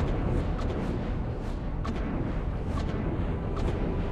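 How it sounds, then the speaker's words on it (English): Muffled, rumbling bursts of distant gunfire in the space simulator game X4 Foundations, over a dense low background roar, sporadic shots spaced a second or so apart, no talking. "I swear that sounds like gunfire."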